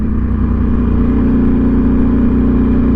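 Ducati V4S Speciale motorcycle engine running at a steady, loud drone with a strong low rumble, continuous throughout with no talking.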